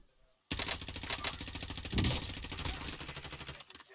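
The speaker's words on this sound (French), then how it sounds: "On lui tire dessus." Rapid automatic gunfire in the video game Call of Duty Warzone bursts in loud and nearly continuous, a dense rattling barrage that keeps going to the end, with a heavy thump partway through.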